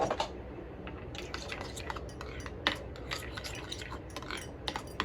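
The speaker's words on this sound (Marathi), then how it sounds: "आता आम्ही हे सगळं मिक्स करून घेतोय." Burger sauce mixed by hand in a bowl, a spoon scraping and clinking against the sides in quick irregular strokes, with occasional sharper taps, close and moderately quiet.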